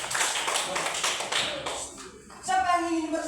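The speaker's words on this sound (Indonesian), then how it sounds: "Tepuk tangan." Schoolchildren in an Indonesian classroom clap their hands on request, a short quick patter of claps that fades out, followed by a voice speaking.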